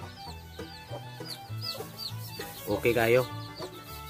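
A hen and her chicks cluck in a small free-range backyard flock, with repeated low clucks and a brief louder call near the end, while a person speaks briefly.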